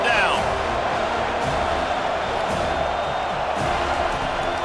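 Stadium crowd noise from EA College Football 25, Colorado versus Florida State, a dense steady roar of cheering fans rising on third down, under a commentator's voice.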